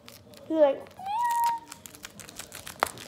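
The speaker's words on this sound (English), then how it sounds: "he's been meowing ever since he went to the vet." A cat meows twice in quick succession, a rising harmonic call followed by a longer drawn-out one, with faint tapping and rustling around it.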